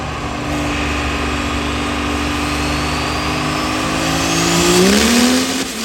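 A truck engine revs hard on a chassis dyno at a weekend event, a loud steady drone that climbs in pitch toward the end before easing off slightly, heard up close with no speech.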